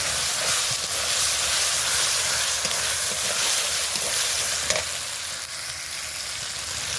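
Chicken frying in a pan gives off a loud, continuous sizzle and hiss, with faint stirring clicks now and then, easing slightly toward the end, and no talking.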